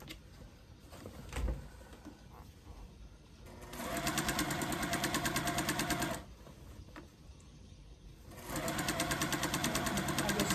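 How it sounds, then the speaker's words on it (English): A sewing machine stitches binding onto a quilt in two steady, buzzing runs of rapid needle strokes, close up, separated by quieter handling pauses, without speech. "I'm just anchoring and adjusting this. White to the quilt."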